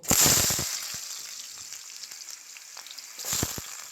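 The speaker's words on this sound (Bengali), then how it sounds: "তেলও গরম হয়ে গেছে খুব সুন্দর করে এবার আলুগুলো যে ডুমু ডুমু করে কেটে নিয়েছিলাম সেই আলুগুলো এবার আমি ভাজতে দিয়ে দেবো" Diced potatoes dropped into hot oil burst into a loud crackling sizzle that quickly settles into a quieter steady fry, then flares up again briefly near the end as more pieces go in.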